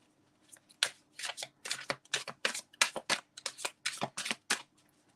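Tarot cards are shuffled by hand in a quick run of crisp riffling flicks, close and clear, with no talking over them.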